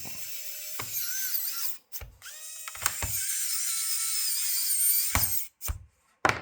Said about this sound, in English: Okay, you're gonna screw it back.